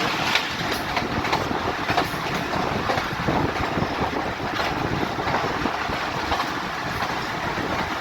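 Rehman Baba Express 48 DN rolling on the rails between Taxila and Rawalpindi, heard from on board: loud, continuous rumble and rattle with steady clattering of wheels over the track, no voices.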